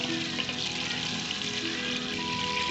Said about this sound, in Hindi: इनको थोड़ी देर फ्राई करेंगे